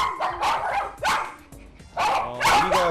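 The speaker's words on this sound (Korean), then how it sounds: "5마리가 한꺼번에 짖다 보니 그 소리가 어마어마했는데요" Five pet dogs barking together at once, loud overlapping bursts of barks and yips in a rapid, jumbled rhythm nearby.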